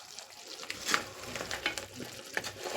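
Crab pieces stirred in a pan for a crab pepper fry, with steady frying sizzle and repeated scraping strokes of the spoon close up, no talking.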